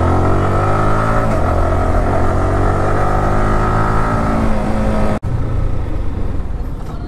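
A car's engine runs steadily and smoothly at close range, a constant low hum with a brief dropout near the end before the drone resumes.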